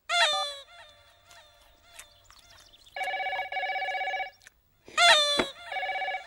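A telephone rings in two separate bursts of steady electronic tone, each opening with a brief crowing, rooster-like chirp, loud and close in an otherwise quiet room.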